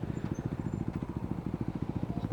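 A Yamaha Aerox V3 motor scooter engine runs steadily at idle nearby, a low rhythmic chugging pulse filling the whole moment on a sandy, dusty outdoor stop.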